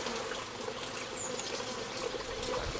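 A small secondary swarm of honeybees moves into a hive box, giving a faint, steady buzzing hum with a soft, watery background hiss.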